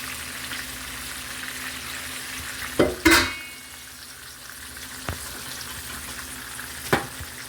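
Noodles and spinach folded into cheesy Alfredo sauce in a pan over a steady background sizzle, with a couple of sharp utensil scrapes and knocks against the pan, close up and without talking.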